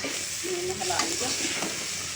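Chopped onions with crushed ginger and garlic sizzle loudly in a pan as they are stirred, a continuous close frying hiss with scraping movements through the middle and no talk.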